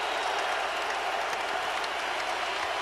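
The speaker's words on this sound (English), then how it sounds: "Sprewell comes out to a standing ovation from the Minnesota crowd." A Minnesota crowd at a 2004 NBA playoff basketball game gives a standing ovation, with dense, steady applause and cheering filling the arena throughout.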